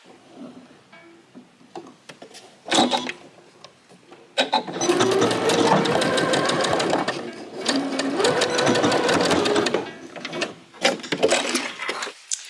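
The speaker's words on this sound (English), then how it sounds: "I'm going to stitch on that fold, that 1/4 inch fold, just like I did for this other side" A sewing machine stitches along a quarter-inch fold on a fabric pouch, first a few short bursts, then a long loud run of rapid stitching, then more brief stops and starts, up close and alone.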